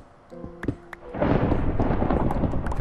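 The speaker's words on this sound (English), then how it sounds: "If it would stop thundering." Thunder from Minecraft rolls in as a loud, sustained rumble after a second of quieter game sounds and brief clicks, filling the rest of the moment without talk.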